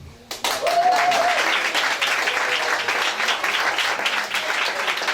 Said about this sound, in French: je demande qu'on applaudit